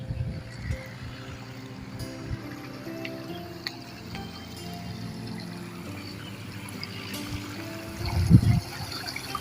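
The Ganga river flows past a riverside Shiva temple, a steady wash and trickle of moving water close by with no talk, ending in a short louder gush.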